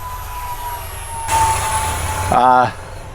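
An Xfly F-22 twin 40mm EDF RC jet flies past over a field, its ducted-fan whine rising and swelling briefly in a rushing pass, over a steady background hum.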